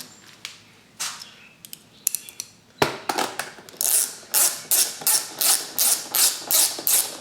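A bolt being ratcheted tight on a YZ125 two-stroke dirt bike fender, a few scattered taps and clicks followed by a steady run of about a dozen quick, close ratchet strokes.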